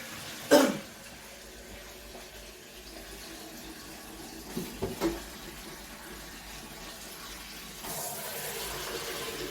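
Cold tap water runs steadily into a vessel while a beer kit is being brewed, a constant soft hiss, with a cough near the start and a few throat sounds midway; the flow grows louder toward the end.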